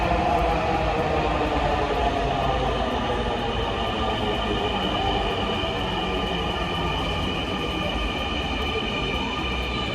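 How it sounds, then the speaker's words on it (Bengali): A Dhaka metro rail train pulls into the station with a loud, steady rumble and rolling roar, plus a faint high wheel squeal over the continuous noise. "এখন আমরা দেখতে পাচ্ছি যে আমাদের ট্রেন আসতেছে"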